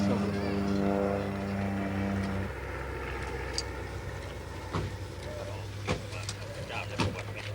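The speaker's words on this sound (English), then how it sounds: "A spotter plane flies overhead." Propeller spotter plane droning overhead near the Thai border, a steady engine hum that fades partway through, with a narrator speaking over it and scattered sharp clicks.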